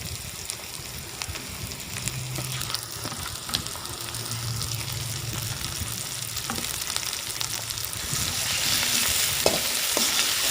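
Marinated chicken and green chillies frying in a pan, a dense, continuous sizzle with occasional stirring scrapes and clinks, swelling slightly louder toward the end, no speech.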